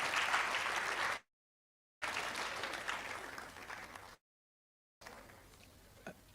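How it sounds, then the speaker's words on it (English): Applause at a public lecture of the Ghana College of Physicians and Surgeons, honoring the chairperson, with steady crowd clapping broken by two dead-silent gaps before a quieter final stretch with a single sharp knock. "Please let's give a big round of applause to our chairperson"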